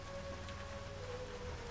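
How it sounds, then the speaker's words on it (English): Hail clatters on a tin roof as a faint, steady patter, a constant wash of small hits with a low rumble beneath and no voices. "the clattering of hail on a tin roof guides my sprint"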